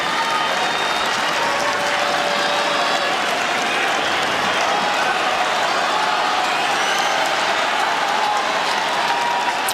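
A large crowd at the Australian Open men's final between Carlos Alcaraz and Novak Djokovic applauds loudly and continuously, a dense, sustained roar of clapping that holds steady throughout, with a faint voice underneath.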